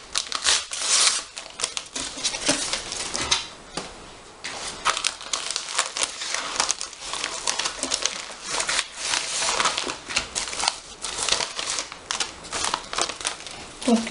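A parcel of Animal Crossing merchandise (a notebook, keychains and a sticker sheet) is torn open at close range, with steady, loud crinkling and rustling of paper and plastic packaging, broken by brief tearing bursts.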